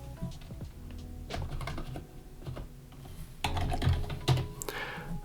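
Code being typed on a computer keyboard, with steady close key clacks and occasional heavier thumps in uneven bursts, getting busier toward the end.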